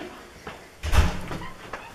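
A door bursts open in a college dorm room with a loud thud near the middle, then quieter rustling and faint movement.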